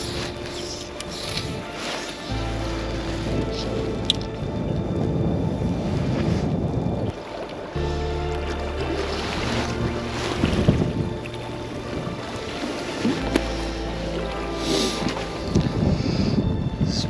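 Wind gusts roar steadily across open water at a freshwater trout fishing spot, loud rumbling buffeting with some water movement and occasional small knocks, no voices.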